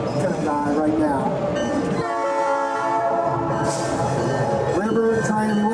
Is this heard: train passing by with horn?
yes